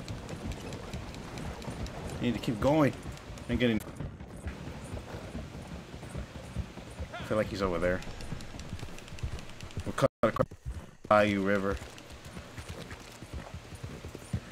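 A horse clip-clops through swampy bayou ground in Red Dead Redemption 2, its hoofbeats coming in uneven bursts while someone talks over them throughout.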